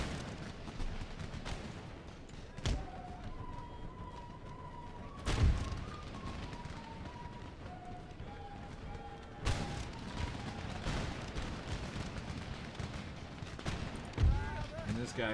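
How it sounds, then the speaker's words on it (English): Mortar fire from the Empire Total War battle arrives as a few dull booming thumps spaced apart, set against steady battlefield din with faint tonal music. "we got mortars that are going to continue to pound us"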